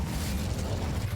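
Incendio fire spell cast in the Hogwarts Legacy video game, a steady low rumbling whoosh of flame that fills the whole moment at even loudness, with no talking over it.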